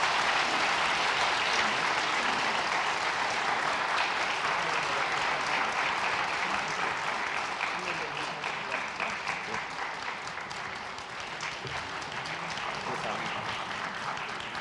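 A church congregation at a Christmas Sunday service claps in sustained applause, loud and dense from the start and easing slightly toward the end.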